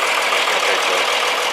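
An air-cooled tractor engine idling steadily, a dense, even, close running sound with a fast knocking texture and no talk.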